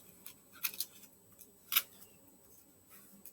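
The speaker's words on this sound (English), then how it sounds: "So just go in with some scissors, carefully cut off that little bit." Scissors snip paper for a children's apple farmer art project, giving a few short, crisp cuts close by with quiet gaps between them and no talking.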